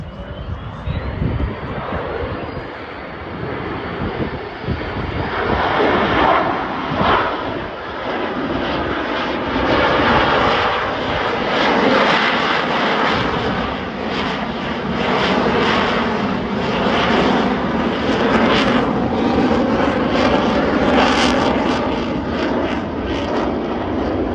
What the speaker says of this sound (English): Ladies and gentlemen, from your right, the high alpha pass.